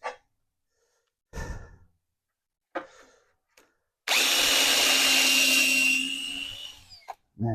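A power drill bores a pocket hole in wood, a loud sustained whine lasting about three seconds, with soft breaths and sighs before and after.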